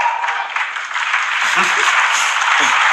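Applause from a crowd at a Destiny 2 gameplay reveal event fills the background as a steady hiss of clapping, with a few brief vocal sounds breaking through near the end.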